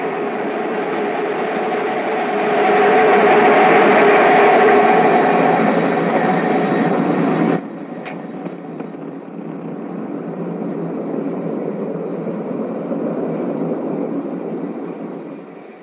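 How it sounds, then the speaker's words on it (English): SpaceX Starship SN15 rocket engines firing during landing, a loud, broad, steady roar that cuts off abruptly halfway through and leaves a fainter rumbling wash of distant noise. "have ignition. Starship heading back to the landing zone."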